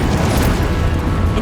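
Confringo and Expelliarmus spells cast in the video game Hogwarts Legacy, producing a loud, dense burst of blasting magical impact noise that fills the short moment without a break.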